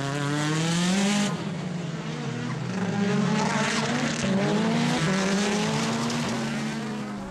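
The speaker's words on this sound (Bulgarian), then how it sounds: "Румен Дунев се завъртя, но бързо се върна на трасето" A race car spins out on the Dolna Mitropolia circuit, its engine droning loudly with wavering pitch under a squealing, skidding tire screech, then revving on as it recovers.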